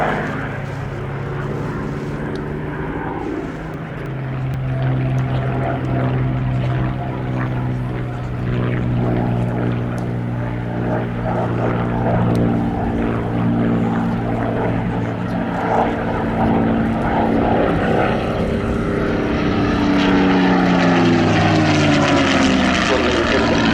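Lancaster, Spitfire and Hurricane propeller aircraft of the Battle of Britain Memorial Flight pass overhead in formation, a steady loud piston-engine drone with a rising, shifting tone near the end and faint background voices.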